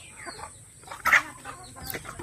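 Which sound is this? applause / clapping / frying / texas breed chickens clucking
texas breed chickens clucking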